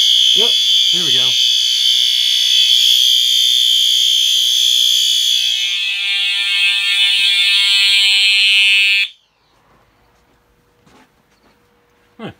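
A fire alarm panel on a system test blares a loud continuous high electronic tone for about nine seconds after a detector is activated, then cuts off abruptly to near silence with faint clicks, a voice briefly heard at the start.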